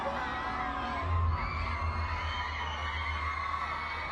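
Fans at a Harry Potter film premiere scream and cheer continuously, a dense roaring crowd with high-pitched shrieks rising over the din.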